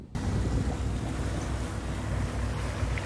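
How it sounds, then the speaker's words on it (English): Loud, steady wind buffets the microphone outdoors on a lake, a constant low rumble with rushing noise and no voices, lasting the whole few seconds. "it is definitely windy out here, so excuse me too if the audio gets a little wonky"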